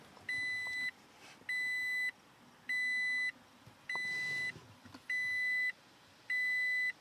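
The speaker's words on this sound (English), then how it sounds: "it's just gonna keep beeping forever." Toyota Tacoma door-open warning chime: six evenly spaced electronic beeps, each lasting about half a second, repeating steadily and fairly clear against a quiet cabin.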